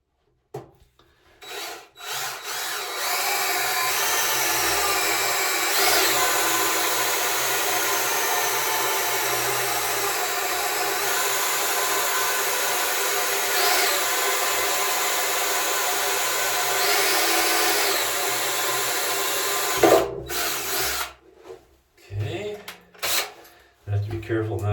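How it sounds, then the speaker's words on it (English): A power drill bores into the reinforcing ring of a home-built submarine's ballast fitting, a steady, close whine lasting about eighteen seconds before cutting off, followed by scattered handling knocks. "I'm just gonna drill it right into the reinforcing ring."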